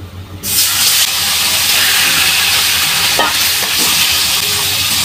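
A whole fish dropped into hot frying oil sets off a sudden, loud, dense sizzle and hiss that holds steady and close for several seconds, with no voices.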